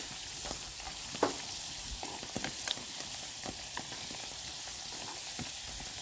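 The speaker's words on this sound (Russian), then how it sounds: "Когда делается во фритюре, особо мелко мельчить не стоит." Carrot deep-frying in hot oil over a small titanium camp stove outdoors crackles with a steady, dense sizzle and scattered pops, close and constant without talk.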